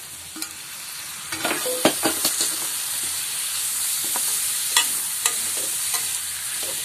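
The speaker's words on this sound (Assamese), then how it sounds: "কচুলতি দি ভাজি আছোঁ" Taro stolons (kochu loti) frying in a pan alongside bamla fish, a steady close sizzle with scattered sharp crackles and scraping stirs throughout, no talking.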